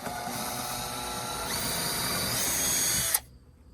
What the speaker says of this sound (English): I think this one I'm actually gonna have to completely drill a new hole.